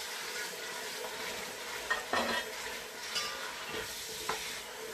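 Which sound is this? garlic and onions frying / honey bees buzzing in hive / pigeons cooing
garlic and onions frying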